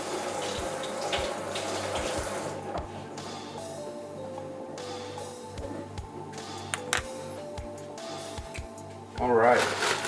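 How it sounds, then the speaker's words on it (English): A spoon being rinsed under a running kitchen tap, with a steady stream of water close by, brief metallic knocks and a louder splash near the end, while someone talks over it. "go rinse my spoon here"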